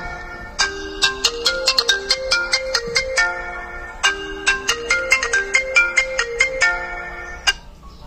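A phone's melodic ringtone plays an incoming-call tune, bright stepping notes in two repeated phrases, loud and close with no talk over it.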